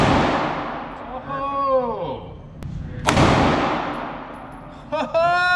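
Gunshots at a shooting range: two sharp, loud cracks a few seconds apart, with people talking and exclaiming around them.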